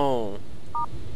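A single short telephone keypad tone beeps once in The Darkness Within game, following a brief voiced sound.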